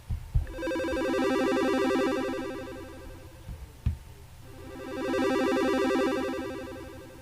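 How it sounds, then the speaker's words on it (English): A fast, bright arpeggio-like pattern from a Liven Mega Synthesis synthesizer, rapid repeating notes swelling and fading in two long phrases, with a few low thumps near the start. "It's kind of like a fast arpeggio."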